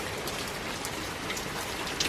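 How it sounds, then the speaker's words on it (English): Heavy rain pours steadily outdoors, a dense, continuous hiss of drops pattering on surfaces, loud and close with no pauses or voices. "it wasn't raining so hard and now it sure is"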